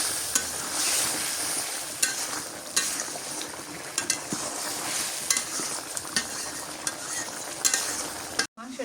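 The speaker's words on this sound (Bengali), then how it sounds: "মাংসটা অল্প অল্প পানি দিয়ে কষাই নিতে হবে।" Meat being sautéed in a pan with small splashes of water for a village-style curry, a steady close sizzle broken by repeated scraping and clinking stirring strokes, with no talking.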